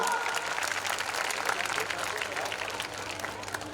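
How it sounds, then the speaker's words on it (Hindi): A festival crowd at a folk music event claps steadily in a continuous rattle of applause, with a low hum underneath and voices faintly mixed in. "हम सभी के बीच जोरदार तालियां आती रहना चाहिए"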